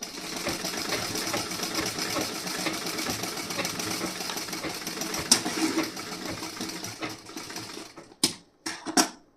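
Sewing machine stitching the front part of a blouse, a steady rapid mechanical chatter running close and even for several seconds before stopping, followed by a few sharp clicks and short bursts.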